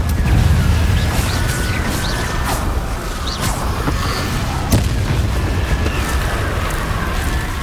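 A Confringo spell explosion in Hogwarts Legacy: a loud, dense booming blast that rumbles on with crackling bursts and a sharp pop near the middle.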